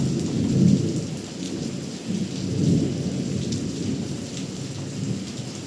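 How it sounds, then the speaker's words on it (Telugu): Heavy monsoon rain pours steadily while deep rolls of thunder rumble through it, two swelling peaks standing out against the constant hiss of the downpour, with no voices. "వినపడుతున్నాయి ఆ ఉరుములు. ఇంత ఉరుములు వస్తున్నాయి, చూసారా? చాలా వర్షం అండి, పెద్ద వర్షం."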